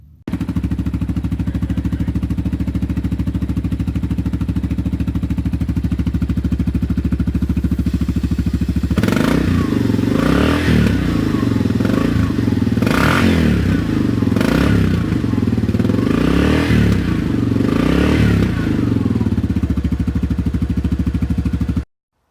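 A vehicle engine runs at a steady idle, then from about nine seconds is revved in several sharp bursts with clattering, close and loud, during a test of a CVT air blow-out system.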